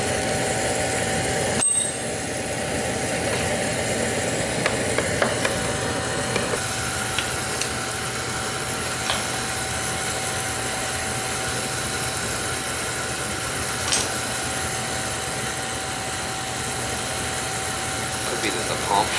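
A Beckett oil burner with a suspected bad pump or motor hums steadily, holding a constant high whine over a low running drone, close and continuous the whole time, with a few faint clicks along the way.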